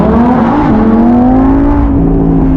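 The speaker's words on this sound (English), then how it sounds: "that puts it into neutral, and then you just fucking rev." A Lamborghini engine revs hard in neutral, a loud, close, continuous roar whose pitch climbs steadily over a few seconds with no talking.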